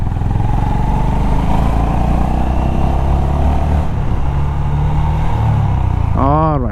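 A Honda H'Ness CB350 motorcycle rides along with a steady, low engine drone and road rumble, loud and continuous, with a brief rising whine near the end.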